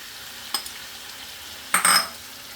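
Potatoes tipped into a hot pan with watermelon rind, then a short burst of stirring and frying sizzle; a brief clink first, then one loud scraping, sizzling stir near the end, no voices.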